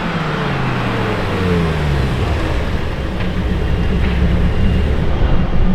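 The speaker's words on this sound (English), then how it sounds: "V10 incoming?" A Lamborghini V10 engine revving as the car passes, a loud droning roar with pitch sweeps that rise and fall, under steady road and wind noise.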